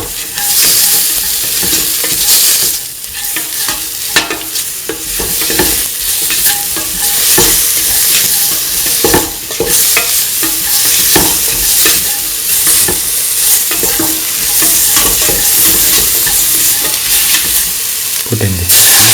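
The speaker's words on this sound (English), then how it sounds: "Mix that a bit." An egg and chickpea scramble is stirred in a frying pan, loud close sizzling and crackle under repeated scraping strokes of a utensil across the pan, continuous throughout with no talking.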